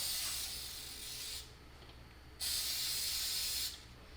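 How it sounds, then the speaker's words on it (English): Silicone lubricant is sprayed from an aerosol can onto an electrical wire while assembling an explosion-proof drop light. Two quiet, close hissing bursts come from the can, each lasting over a second, with a short pause between them. "Spray a little silicone on the wire itself."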